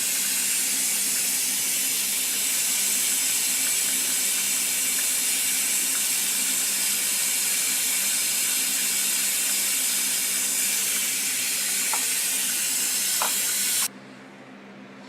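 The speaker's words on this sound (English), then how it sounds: "we're going to try and vacuum out as much fluid as we can before we remove this rear bleeder" Brake fluid is vacuumed out through a rear brake caliper bleeder valve, making a steady hissing, sputtering suction noise with a low hum beneath it and a few faint clicks, before it stops abruptly near the end.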